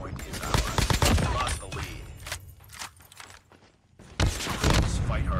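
Rapid gunfire from a Man-O-War rifle loaded with thermite ammunition in Call of Duty Mobile, loud crackling bursts of shots with a brief lull in the middle before another burst.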